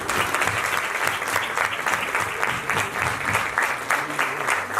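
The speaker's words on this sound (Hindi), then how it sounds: "चलो अब हम खड़े होकर ताली बजाते हैं।" A standing congregation at a religious satsang gathering claps together in sustained, dense applause, the rapid hand claps loud and even throughout with no pause.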